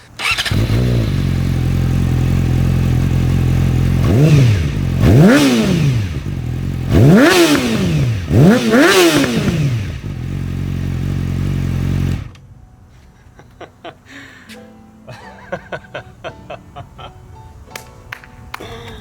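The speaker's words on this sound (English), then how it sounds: "At idle, it sounds almost normal, and then you go on the throttle." A Yamaha R6 fitted with a LeoVince full exhaust idles, then blips the throttle in four loud rising-and-falling revs. The engine cuts, leaving quiet clicks and clatter nearby.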